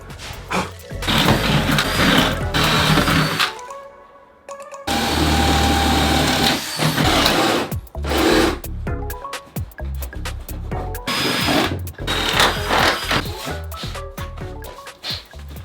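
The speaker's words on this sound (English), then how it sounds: "Right, that's all the holes drilled." A power drill bores holes in wood while a garden bar is being built, whining loudly in long stretches with brief pauses and scraping bursts between them, close up.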